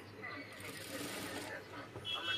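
A sewing machine stitches a seam on a blouse with a quiet, rapid mechanical whir at close range, while a voice talks over it.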